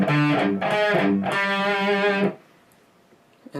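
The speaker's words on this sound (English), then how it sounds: "All being palm muted on the 5th string open." A distorted electric guitar plays a chugging riff, three bursts palm-muted on the open 5th string, the last held longer, then cuts off into near silence.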